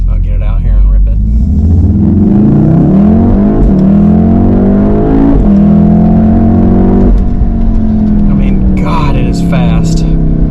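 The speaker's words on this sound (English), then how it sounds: "It will pop and gargle as good as any car I think I've driven." A 2018 Volkswagen Golf R accelerates hard through several rising gear pulls with quick shifts between them, its engine loud and close from inside the car, and a few sharp exhaust pops come near the end.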